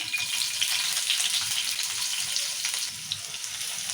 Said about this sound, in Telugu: ఇప్పుడు నూనె వేసాం కదా పచ్చిమిరపకాయలు వేసుకుందాము ఏ ఉల్లిగడ్డలు కూడా వేసుకుందాం